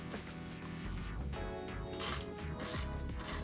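A hand ratchet with a 17mm long socket works the rear axle bolt loose on a Lectric XP Lite 2.0 e-bike, a steady run of close mechanical clicking and metal rubbing heard alone.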